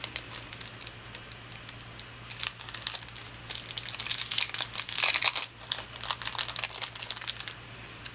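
Crinkly, crackling packaging handled near the mic while a Twsbi fine replacement nib for a Diamond 580 fountain pen is twisted out of its sturdy tube, with irregular bursts of rustling over a low steady hum.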